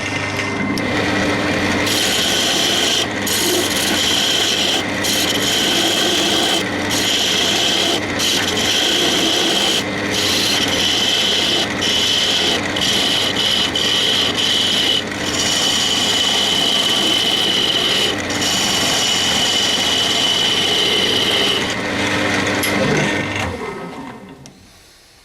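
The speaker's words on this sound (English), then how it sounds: "I'm just using this spindle gouge at the moment." A spindle gouge cuts a spinning yew and walnut vessel on a woodturning lathe, making a steady, loud scraping hiss over the motor's hum. Short breaks appear as the tool lifts off, then the sound fades out as the lathe stops.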